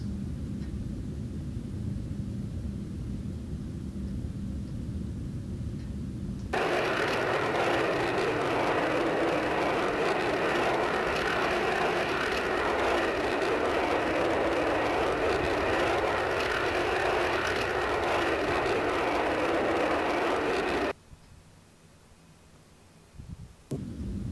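A Sukhoi Su-9 "Fishpot" jet in the FSX flight simulator gives a steady engine roar that swells loud and broadband after a quieter low rumble, holds for about fifteen seconds, then drops off abruptly.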